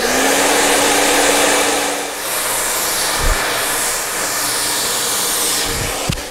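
A hair dryer blows steadily at close range while drying a section of hair wrapped around a round brush, a loud continuous airy roar with a slight dip in the middle and brief bumps of handling.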